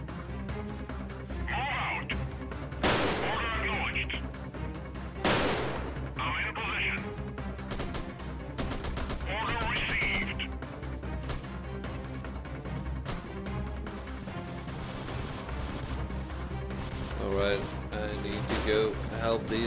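Gunfire in the video game Freeman Guerrilla Warfare, a few sharp shots at irregular intervals over a busy background, with someone talking throughout.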